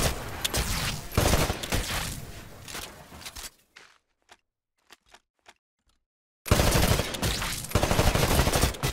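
Rifle fire at shooting-range targets in the video game Titanfall: loud rapid bursts, then a near-silent gap broken by a few single crisp shots, then another heavy sustained burst.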